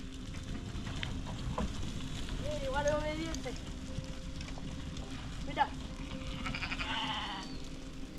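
Sheep bleating in a rural setting, several wavering cries spaced out over a steady background murmur, with a sharp knock midway and a longer bleat near the end, moderately close.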